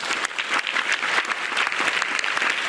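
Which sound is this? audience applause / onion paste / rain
audience applause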